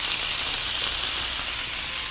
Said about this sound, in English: going to let this juice sort of boil back down and sort of get to sizzly mode again